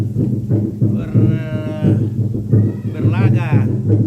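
Water buffalo low repeatedly in a crowd at a funeral gathering in Rantedollok, Rantedada, with drawn-out, wavering moans rising over steady chatter and background noise, several calls overlapping within a few seconds.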